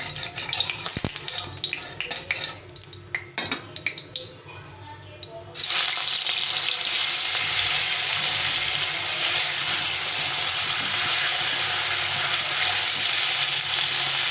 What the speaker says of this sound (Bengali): সব মাছগুলো দিয়ে ভালো করে ভেজে নেব